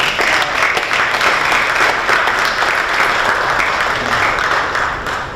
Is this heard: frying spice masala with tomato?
no